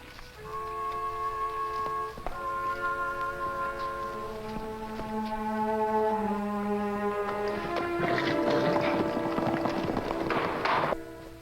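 A pony's hooves clip-clop in a rhythmic run beneath a swelling orchestral score, the hoofbeats coming through more clearly toward the end.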